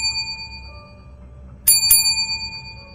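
A small hanging bell chimes twice in quick succession, bright and ringing, over a quiet low hum with a faint steady tone.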